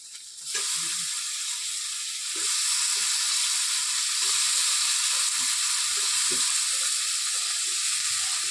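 Cut potatoes added to hot oil with ginger and garlic, a loud steady frying hiss that swells after a soft start, with scattered light clinks of a utensil against the pan.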